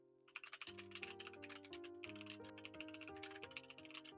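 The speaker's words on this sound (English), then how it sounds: "Sorry about my typing." Rapid clicking of keys on a computer keyboard during a game stream, as a quick, uneven patter of taps over a steady musical tone bed, fairly faint and with no one talking.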